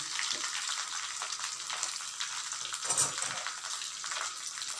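Curry leaves and fennel seeds sizzle in hot oil for a mutton curry, a steady crackling fry with light stirring scrapes, close up and with no talking.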